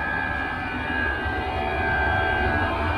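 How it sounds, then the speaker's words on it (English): Small Chinese diesel heater running to warm a house, a steady droning hum with a faint whine, constant and fairly close throughout, no voices. "that's the little Chinese diesel heater churning away for the house"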